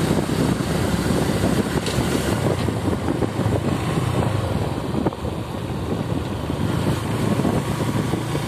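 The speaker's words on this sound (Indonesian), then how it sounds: "Kita ada truk bawa gas." A gas-carrying truck rumbles along a rural road near Darmakradenan toward Ajibarang, Banyumas, heard as a continuous, close, loud engine drone blended with road and wind noise, with no talking.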